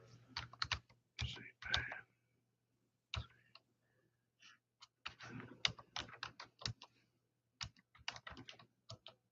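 Computer keyboard typing in irregular bursts of close, crisp keystrokes, with pauses between groups and a faint steady hum underneath.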